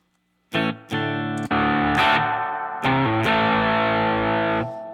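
Distorted electric guitar through a Headrush Gigboard with reverb on plays several loud picked chords and notes in quick succession, each ringing out with a reverb tail before the sound cuts off.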